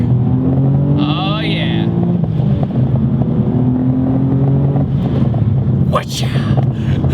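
A twin-turbo Nissan 350Z accelerating in second gear, a loud, close engine drone that climbs in pitch, with a brief whistle-like rising tone and a short voiced exclamation from inside the car.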